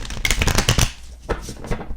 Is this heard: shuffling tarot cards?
yes